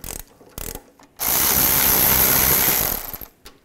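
A ratchet wrench clicks a few times as bolts on a Jeep Grand Cherokee rear wheel bearing are tightened. A loud, sustained whir from a power tool follows for about two seconds before stopping, with more brief clicks at the end.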